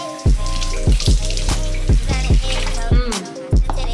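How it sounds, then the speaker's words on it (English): Hot tap water runs into a sink over a cup sticky with spilled ginger ale, a steady close splashing stream broken by several short, sharp bursts of louder spray. "Run this over hot water so I don't want all this sticky."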